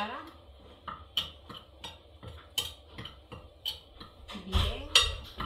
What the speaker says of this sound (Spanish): lo voy a echar a la maseca y envolver con una cuchara o mezclar con una cuchara